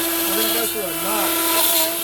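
Onefinity CNC router running at 350 inches per minute through a pine knot, a steady high-pitched whine with a constant tone and shifting cutting sweeps, close and loud, with a voice faintly talking underneath.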